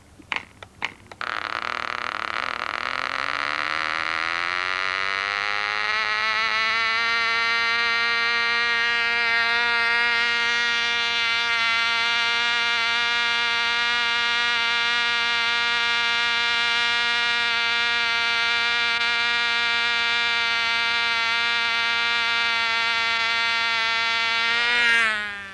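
An old HB model engine running without a muffler gives a loud, raw buzzing whine that climbs in pitch over the first several seconds, then holds a continuous high drone before fading slightly at the end.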